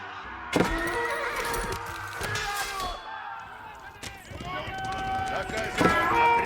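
Horses whinny and neigh amid hoof clatter and sharp battle clanks in the medieval strategy game Age of Empires IV, with spoken unit voice lines mixed in.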